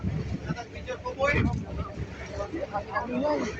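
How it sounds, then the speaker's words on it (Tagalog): Strong wind roars and buffets steadily, with a broad rushing wash like heavy rain, while voices talk over it throughout. "Hangin pa at ulan."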